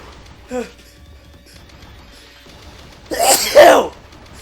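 A single short sneeze-like burst, then a louder, breathy explosive sneeze near the end, close to the listener, with faint background noise.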